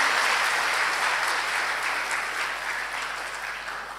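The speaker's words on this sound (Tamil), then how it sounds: "கைத்தட்டலினுடைய ஒலி குறையிற மாதிரி எனக்கு தோணுது" Sustained audience applause at a diamond jubilee gathering of a city association, a dense, even wash of many hands clapping that slowly fades toward the end, with no voices over it.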